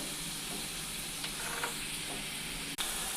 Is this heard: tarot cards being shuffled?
no